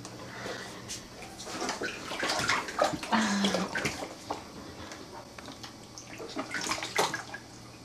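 A baby splashes water in a bathtub, with close, irregular sloshing and slapping bursts spread across several seconds against a soft background hiss.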